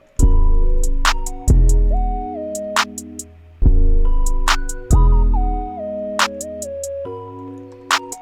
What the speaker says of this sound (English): I'm gonna go ahead and add the hi-hats.